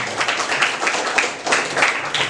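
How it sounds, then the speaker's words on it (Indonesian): A classroom of students claps for a classmate, a short burst of lively, close applause with uneven rhythm and a few louder individual claps. "beri tepuk tangan yang meriah untuk Izam ya"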